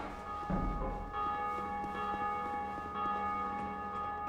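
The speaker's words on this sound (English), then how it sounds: "So now we will ring the bell. That opens up the exit for us." A bell rung in the video game Dark Souls 2 tolls with a long, resonant, ringing sustain that hangs over a low background, without speech.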